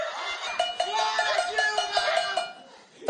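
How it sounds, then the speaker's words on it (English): At a pot-banging protest in São Paulo, people strike metal pots in a quick, rhythmic stream of bright metallic clanks. Faint crowd noise sits underneath. "People were banging their pots,"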